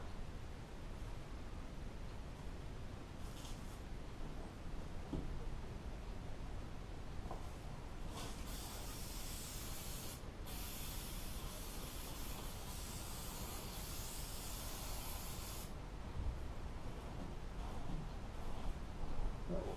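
Bursts of spray from an aerosol can misting glue onto pots during boat sundeck upholstery work, with several short hisses and one long, sustained spray near the middle, faint and alone.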